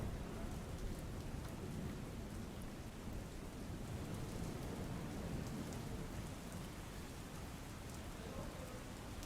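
Steady, heavy monsoon rain pours down continuously in Valsad, Gujarat, a dense hiss of drops drumming on surfaces with no breaks or voices.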